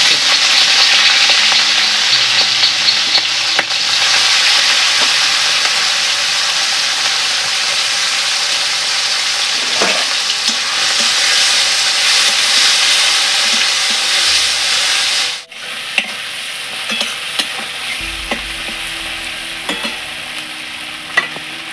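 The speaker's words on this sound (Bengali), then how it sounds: "চিংড়ি মাছগুলো এবার ভেজে নেওয়া" Prawns frying in hot oil give a loud, continuous hissing sizzle with occasional sharp pops and stirring scrapes. The sound drops in level about two-thirds of the way through, then continues more quietly with low rumbles in the background.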